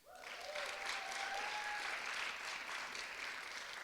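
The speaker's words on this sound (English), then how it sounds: "let's give these two board members a round of applause" An audience claps at a community strategic plan launch, a dense steady round of applause that swells quickly and holds loud for several seconds.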